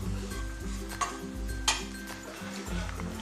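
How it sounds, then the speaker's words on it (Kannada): Ground spices such as coriander powder and homemade garam masala frying in a pan for a mutton keema gravy with field beans, stirred with a utensil that gives soft scraping and a few light clinks over a low sizzle, close by. "ಇವೆಲ್ಲ ಸೇರಿಸ್ಕೊಂಡು ಚೆನ್ನಾಗಿ ಫ್ರೈ ಮಾಡ್ಕೊಳ್ಬೇಕು"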